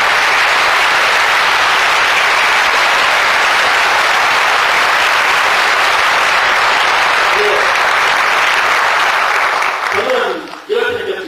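A lecture audience at Hanyang University's ERICA campus in Ansan breaks into long, loud applause, a dense sustained clapping that fades near the end as a voice begins to speak.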